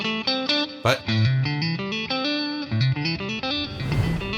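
Electric guitar with distortion and effects, every note picked individually, in a steady run of separate notes, loud and close, with a brief burst of noise near the end.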